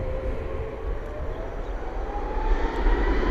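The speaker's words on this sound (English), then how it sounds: "Jet2 Holiday livery taxiing in the background there as well." A Jet2 airliner in holiday livery taxis at Bristol Airport, a steady engine roar and whine that swells slightly, heard alone without talk.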